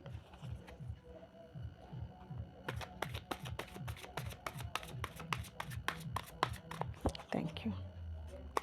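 Tarot cards are shuffled in a quick, steady run of crisp papery flicks, close and fairly quiet, while a voice murmurs underneath and a low rhythmic thump repeats through most of it.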